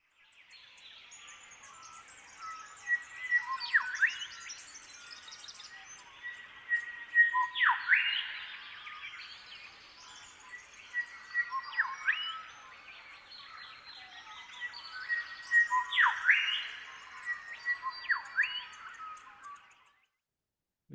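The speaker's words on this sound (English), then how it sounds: "the neighbouring shrike thrush sung exactly the same song phrase as our" A shrike thrush sings clear, whistled song phrases, repeating similar sweeping notes in bursts over about twenty seconds, close and distinct against a quiet background with no talking.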